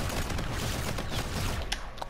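Rapid bursts of Volk assault rifle gunfire from Call of Duty: Infinite Warfare crackle in a dense, continuous volley, followed by a couple of sharper mechanical clicks near the end.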